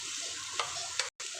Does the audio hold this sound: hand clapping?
no